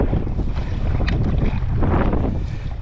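A strong headwind roars across the microphone while a sea kayak pushes through choppy waves near Sundsvall, with constant loud buffeting and splashing water and no voices.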